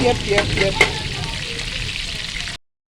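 Chicken browning in a pan for rice and peas, a close steady sizzle with a few sharp clicks and stirring knocks early on, then cutting off abruptly.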